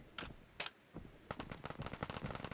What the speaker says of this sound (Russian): Слышу стрельбу?